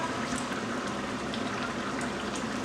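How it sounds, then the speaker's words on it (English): Water poured into a hot stew pot on the stove, a steady close splashing and bubbling liquid rush that continues without pause. "I'm gonna add some more water, I think."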